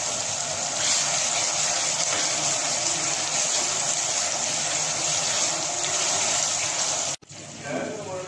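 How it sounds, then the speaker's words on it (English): Water pours steadily into a pot of Lahori white chana curry with onions and masala, a continuous loud gushing that runs for about seven seconds, then stops abruptly, followed by quieter kitchen sounds. "Now I put some water."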